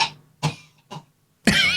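Three short coughs on a podcast microphone, evenly spaced and fairly close, followed by a harsher, louder burst at the end.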